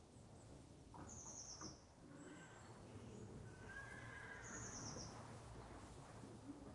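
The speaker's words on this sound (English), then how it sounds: "I hear neighing!" Horses in a video-game stable neigh repeatedly, with a couple of high whinnies rising above a low, rumbling ambient bed alongside soft clip-clop and faint bird chirps, all fairly quiet.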